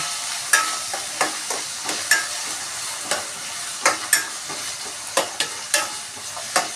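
Vegetables being sautéed in hot oil for a home-made breakfast dish, with a steady soft sizzle broken by repeated sharp scrapes and clatters of a spoon stirring the pan at irregular intervals, close and fairly loud, no talking.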